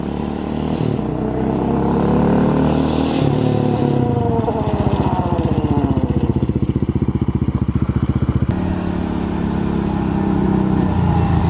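A Honda 400EX ATV engine runs steadily nearby with a loud, continuous buzzing drone that rises and falls slightly in pitch, with no talk over it.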